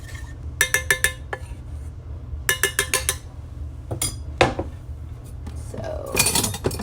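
Coconut oil is whisked in a bowl for peanut butter cups: bursts of rapid metallic clinking and scraping come in several quick clusters, close and fairly loud over a low steady hum.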